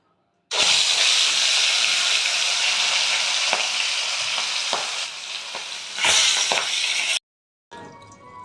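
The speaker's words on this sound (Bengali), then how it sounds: "এবার আমি এই তেলের মধ্যে ছেড়ে দেবো। তেলটা গরম হয়ে গেছে।" Singi fish coated in salt and turmeric slides into hot oil with a sudden loud burst of sizzling that holds steady, broken by occasional stirring clicks and a second flare, then stops abruptly.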